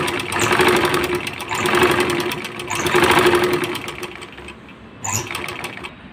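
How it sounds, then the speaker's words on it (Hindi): A sewing machine stitches a pocket onto a salwar with a loud, close, steady mechanical whir and rapid needle rhythm. It swells and eases in waves, then slows near the end. "पॉकेट के लिए मैं इसे ये अंदर की तरफ से इस तरह से कपड़े को फोल्ड करते हुए हम सिलाई लगा लेंगे"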